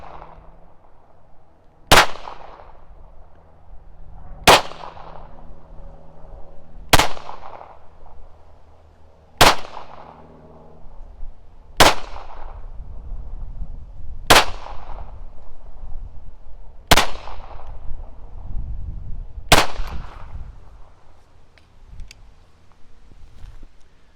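Eight loud, sharp gunshots from a firearm loaded with small rifle primers, fired one at a time at an even pace about two and a half seconds apart, each with a short ringing decay, under faint background noise.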